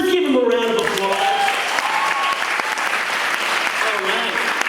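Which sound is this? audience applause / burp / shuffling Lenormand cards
audience applause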